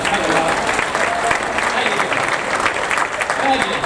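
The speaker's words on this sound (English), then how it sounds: "Let's give him a round of applause." A live entertainment show's audience gives a round of applause, many hands clapping loudly and continuously for several seconds in a close, crowded room.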